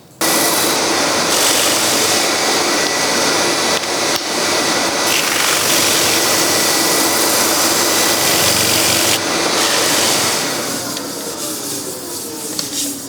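Continuous loud, rough whirring and hissing of a wooden bowl being sanded through the grits on a spinning lathe, steady throughout before easing slightly near the end.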